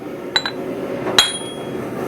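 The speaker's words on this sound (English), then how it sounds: "I'm going to be hammering at an angle" Hammer blows on hot metal at an angle during blacksmith forging, two quick close strikes followed by a louder ringing clang with a sustained metallic tone, over steady workshop background noise.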